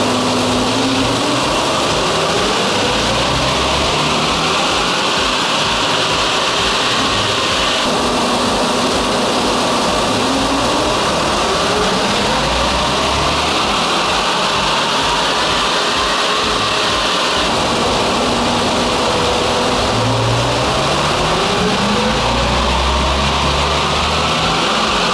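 A truck engine runs steadily on a dyno and revs up and down in repeated sweeps, loud and close, with a droning mechanical roar throughout.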